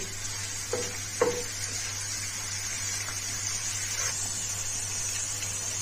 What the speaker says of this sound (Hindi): अब हम इसमें एक छोटे साइज का बारीक कटा हुआ प्याज शामिल करेंगे और इसको थोड़ा सा भून लेंगे।